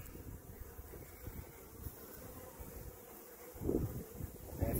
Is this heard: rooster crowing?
no